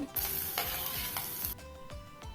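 Chopped onion frying in hot oil in a pan for ragi soup, giving a close, steady sizzle broken by several scraping stirs. The hiss drops off sharply near the end, leaving quieter stirring.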